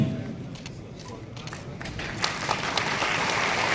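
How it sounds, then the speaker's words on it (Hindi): Audience at a constitution anniversary event applauding, scattered claps that build from sparse and moderate to denser, louder clapping toward the end. "तालियों से हम सब अपने शिरकत को दर्ज करवा सकते हैं।"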